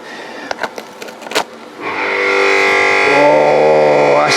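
A few clicks and knocks, then a loud concrete vibrator starts up and keeps running with a steady, buzzing hum that shifts slightly in pitch.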